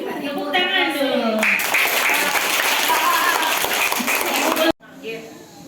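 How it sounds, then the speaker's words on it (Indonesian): An audience at an Indonesian school session on preventing and handling sexual violence breaks into applause for about four seconds, with a voice audible over the start before the clapping stops abruptly. "Iya, tepuk tangan dulu."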